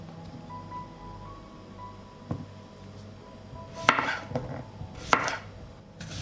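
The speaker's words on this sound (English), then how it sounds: "I cut the cucumber into thicker rings." A knife slices a cucumber into thick rings on a board, giving a few soft, separate chopping thuds spaced a second or so apart, close by and fairly quiet over faint background rustle.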